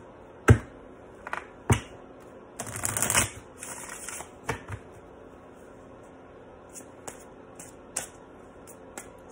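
Tarot cards are shuffled by hand at a reading: a few sharp taps and snaps, then a brief dense riffle burst, followed by scattered soft card taps, close and fairly quiet with no talk.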